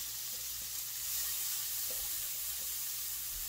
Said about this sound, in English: So you can cook off, just saute these a bit.